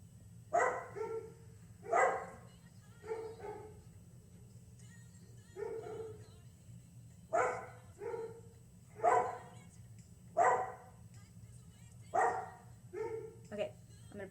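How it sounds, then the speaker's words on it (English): Dogs bark in a series of sharp, fairly close woofs, in clusters of one to three barks separated by short pauses, over a low steady background hum. "get these dogs to be quiet."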